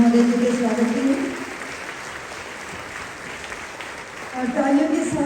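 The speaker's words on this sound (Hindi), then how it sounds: "जोरदार तालियां हो जाए माननीय मंत्री महोदय जी के स्वागत के लिए" An audience at the Arogya Manthan 2023 event claps to welcome a government minister. A crowd's steady applause fills the middle of the moment, with an announcer talking over it at the start and again at the end.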